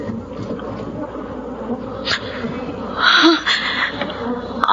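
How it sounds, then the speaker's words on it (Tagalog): Bees buzz in a dense, droning swarm close by, around a hut's wall and roof, with the hum swelling louder midway through. "Nagkakalipumpun ang mga insekto sa dingding at bubungan ng kubo."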